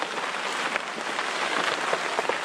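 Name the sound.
steady rain falling outside winter campsite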